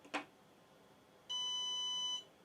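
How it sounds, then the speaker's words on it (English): A Flysky receiver paired with an FS-MG7 transmitter gives a single steady electronic beep lasting just under a second after binding, preceded by a short handling click. "Now you will hear the beep"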